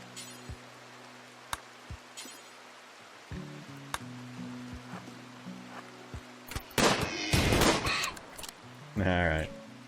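Rifle shots from a firing squad in the colony game Rimworld crack out as sharp single reports spaced over several seconds, followed by louder bursts of fire and a short spoken line near the end.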